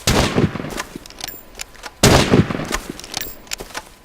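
Gunfire in the video game Rust during a sniper battle, with two loud, close bursts of shots and smaller cracks and impacts between them.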